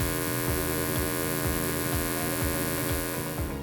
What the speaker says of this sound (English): Those sounds are made by the cooling fan underneath the burner as it heats up or cools down